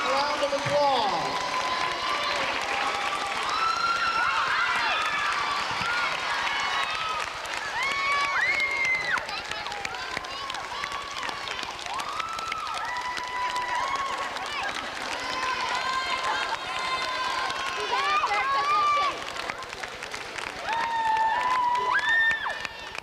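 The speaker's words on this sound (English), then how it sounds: "Let's give them a great big round of applause." Sustained audience applause with cheering and shouting voices at a 1992 children's prince and princess pageant in Jensen Beach, loud and steady throughout with no speech over it.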